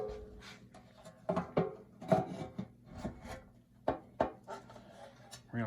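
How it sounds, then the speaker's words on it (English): Rubber O-rings rub and squeak as a motorcycle gas tank slides onto its mount, a series of close, short scraping and creaking pushes with faint rumbling between them. "You can hear the rubber engage."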